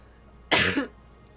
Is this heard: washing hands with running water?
no